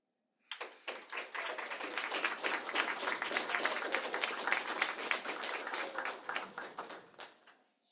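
Audience applause after a conference presentation, a dense burst of many hands clapping that rises quickly, holds steady for several seconds and then fades out.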